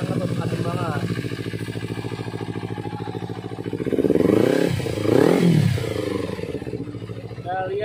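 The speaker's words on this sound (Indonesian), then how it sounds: "Kita dengerin suara mesinnya." A Kawasaki Ninja 250 sport motorcycle engine idles with a steady, throbbing pulse, then revs up briefly before settling back, close and loud, with a person talking over it.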